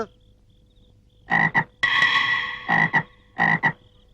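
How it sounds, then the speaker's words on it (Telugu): A frog croaks loudly and close in short bursts, a double croak, a longer drawn call, then two more paired croaks, in a scene from a Telugu film with no talk over them. "నా చెప్పుతోని కప్పం దొక్కిన బేర్ బేర్ మని ఎడుతాంది"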